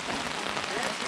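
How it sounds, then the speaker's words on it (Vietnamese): Heavy rain pours down in Quang Nam, Vietnam, a dense, steady hiss of drops hitting surfaces with no breaks, loud and close throughout. "Mưa to lắm Quảng Nam đây."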